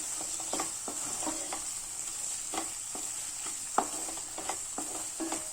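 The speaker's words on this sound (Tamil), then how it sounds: "இப்போ இறக்கும் போது நம்ம கொஞ்சம் மல்லி இலை, கொஞ்சம் கருவேப்பிலை போட்டு மிக்ஸ் பண்ணிக்கலாம்" Mutton liver varuval fries with coriander and curry leaves, a steady high sizzle in the pan under repeated spoon scrapes and stirs, fairly close and moderately quiet.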